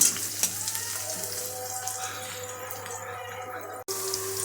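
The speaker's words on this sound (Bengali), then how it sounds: "আমার পেঁয়াজগুলো সব ভাজা হয়েছে।" Onions fry in a pan with a steady, moderate sizzle and faint crackle, a low hum beneath and a momentary cut near the end.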